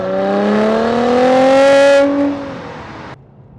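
A 2016 Mercedes-Benz C43 AMG 4MATIC with a 3.0 engine accelerating on the road, its loud engine note climbing steadily in pitch through a gear, then dropping away sharply to quiet.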